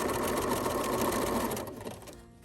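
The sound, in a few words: sewing machine stitching over a drawstring bag strap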